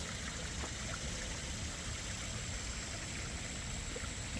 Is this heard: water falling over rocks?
yes